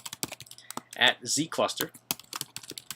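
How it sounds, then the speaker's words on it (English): Keys clatter on a computer keyboard as an SSH command is entered in a terminal, a quick run of sharp clicks in bursts around a man's brief spoken words. "so simply type in SSH, your username"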